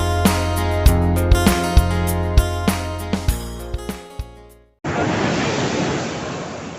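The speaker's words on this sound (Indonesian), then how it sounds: "lihat-lihat, ini ombak, air pasang mulai naik guys" Sea waves of a rising tide flooding the coastal shore at Inobonto, a loud, steady roar of surf that enters abruptly after several seconds of rhythmic, ringing, tonal tapping.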